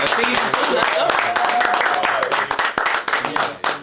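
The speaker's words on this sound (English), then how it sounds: "let's give ourselves a round of applause" Podcast hosts clap for themselves, a dense burst of hand claps that thins into scattered claps near the end, loud and close, with a voice heard partway through.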